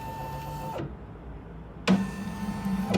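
An embroidery machine traces the outline of an appliqué stitch: a mechanical whir with a steady tone, a brief quiet gap, then a sharp restart and renewed motor hum, close and fairly loud.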